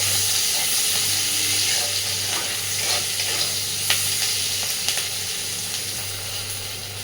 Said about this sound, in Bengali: পেঁয়াজটাকে হালকা ভাজবো, বেশি লালচে করে পেঁয়াজটা ভাজবো না।